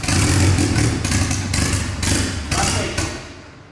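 Chevrolet Corsa fitted with a turbo engine, being started and revved in a garage; loud rough engine with rhythmic surges of throttle roughly every half second, fading slightly toward the end.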